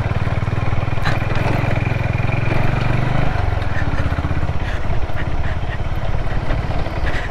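Honda CB350 motorcycle climbs a steep, rocky uphill road in Manang, Nepal, its engine throbbing loud and steady with a low rumble and mechanical clatter, without talk.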